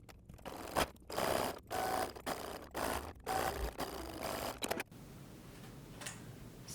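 A sewing machine stitches double-fold bias tape around a fabric curve in a run of short bursts with brief pauses between them, fairly close and steady, then stops and leaves a quiet tail.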